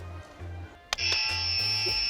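A sharp click is followed by a steady, loud electronic buzzer tone that holds for over a second, ringing out close and clear.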